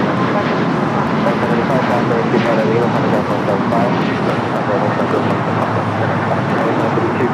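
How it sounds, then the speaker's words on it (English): An Airbus A350 airliner arriving at LAX gives off a loud, continuous broadband jet roar that holds steady throughout, with busy airport and traffic noise mixed in beneath it. "Number 2 for arrival was the LA28 A350"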